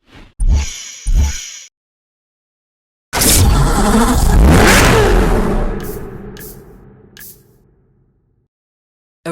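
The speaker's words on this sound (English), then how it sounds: "A bespoke V8 engine was designed from scratch to be more power efficient than any hybrid" A bespoke V8 car engine in the Need for Speed Hot Pursuit racing game, heard as two short blips, then a loud sustained rev that rises, then fades out over several seconds, with no talk.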